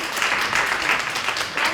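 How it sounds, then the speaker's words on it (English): Audience applause for guests at a live fashion and hairstyling event, a short burst of steady clapping from an indoor crowd, moderately loud and close. "Can we have a round of applause for them?"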